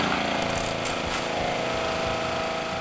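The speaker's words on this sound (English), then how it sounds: "Turn your engine on." The small gasoline engine of a pressure washer runs at a loud, steady drone close by, with constant mechanical rattle and a rough, buzzing hum throughout.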